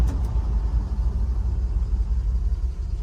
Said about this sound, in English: we can give you a little bit of a brake test.